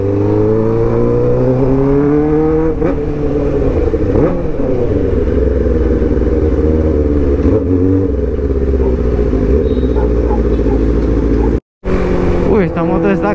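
A 2008 Suzuki GSX600R K8 sport motorcycle accelerates hard from the rider's position, its engine note climbing through repeated upshifts with rising then dropping whine, loud and close, with wind rush and a brief dropout near the end.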